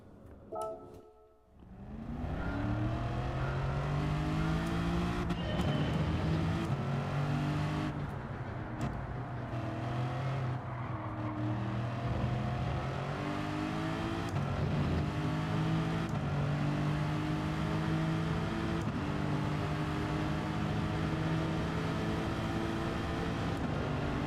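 Race car engines in a Gran Turismo race with Nissan, Honda and Lexus cars, starting from near silence before loud engines rev up, then a sustained roar with rising and falling pitch as the cars accelerate and shift gears.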